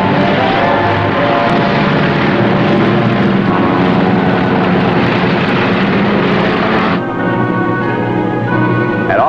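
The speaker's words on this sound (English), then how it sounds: "Admiral Mitchell had given the orders to launch his fighters." Carrier-launched propeller fighter planes roar loudly and continuously at close range, a dense engine drone that changes character near the end as one aircraft pulls away.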